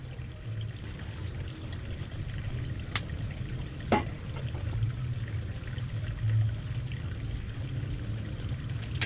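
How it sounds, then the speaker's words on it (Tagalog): Fish sauce poured into a pot of beef bulalo soup, a steady close liquid stream with gurgling and a couple of sharp clinks, lasting the whole stretch with no talking. "Lagyan po natin ng patis."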